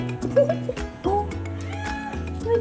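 A cat gives a few soft, short meows while a person talks gently over it nearby, with music or background sound underneath.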